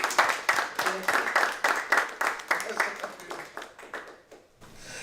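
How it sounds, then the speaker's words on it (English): Audience applause at a community lecture series event, moderately loud with distinct rhythmic clapping that thins out and stops near the end. "I'm just going to ask that we give them a round of applause for all the work that they do."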